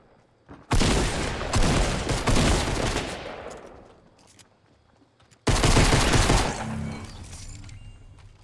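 Rapid automatic gunfire from Fortnite Battle Royale comes in two long, loud bursts of sustained shooting, separated by a quieter stretch with distant rumble.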